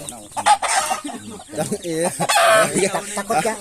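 Hens, including an old hen, cluck and squawk up close in a busy, overlapping chatter, with one long drawn-out cackle in the middle.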